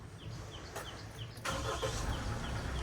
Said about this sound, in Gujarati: પહેલાં ગાડીને ઓન કરી નીચેથી કૂતરા નીકળી જાય.